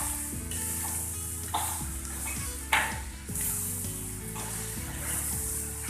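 Eggplant moju sizzles in a pan while a spoon stirs and scrapes it in a quick, repeated rhythm, close and fairly quiet.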